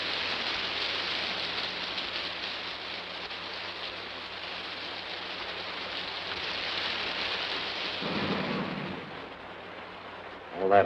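Steady heavy rain hisses continuously in a 1955 post-apocalyptic film scene, a dense even wash of downpour that briefly swells near the end.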